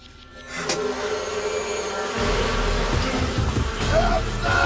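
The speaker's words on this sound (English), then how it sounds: "the glass box is full of bees" Bees swarming inside a glass box in a thriller film, a dense continuous buzzing hum that swells after two seconds and holds loud and steady, mixed with a tense film score.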